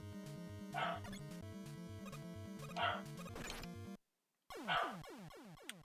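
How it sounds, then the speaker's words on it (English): A dog barks three times in the background, each bark short and muffled, over the bouncy chiptune music of a Mega Man game. "my dog is barking"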